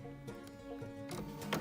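A sewing machine stitches in the ditch on a quilt block with a ruler, its motor humming under rapid, rhythmic needle clicks that speed up and slow in short close bursts.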